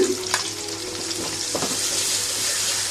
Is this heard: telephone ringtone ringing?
no